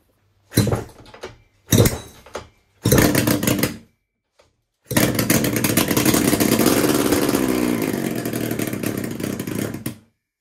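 A Kawasaki S1 550 four-cylinder motorcycle is kick-started after its carburettors are filled: three short turnover bursts, then the engine catches and runs loud and rough for about five seconds before cutting off.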